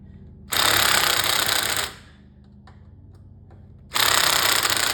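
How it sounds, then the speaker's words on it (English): A nearby low-powered electric drill, used while taking apart a Neo Geo arcade cabinet, whirs loudly in two bursts, about a second and a half each, with a quiet pause and faint clicks between. "I'm not using a very powerful drill."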